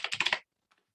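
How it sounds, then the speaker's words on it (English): Five quick keystrokes on a computer keyboard, close and crisp, in a rapid burst lasting under half a second. Silence follows, broken by a faint click. "click on the search, and then type in home use"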